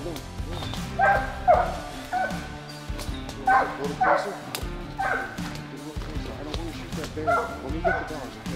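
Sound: hunting hounds baying on a bear hunt

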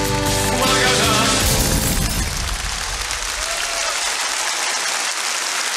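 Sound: studio audience applause

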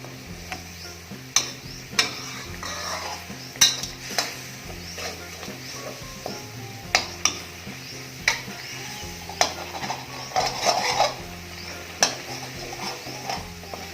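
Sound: coconut cream frying and stirred in a pot for pineapple pork curry

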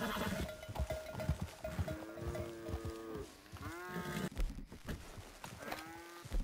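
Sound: cattle mooing in a video game

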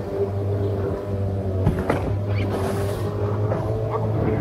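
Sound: jon boat motoring against the waves

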